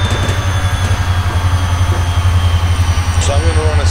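A CSX coal train in the RailWorks 2014 railway simulator game, with a deep pulsing diesel engine drone running steadily throughout and a faint squeal near the end.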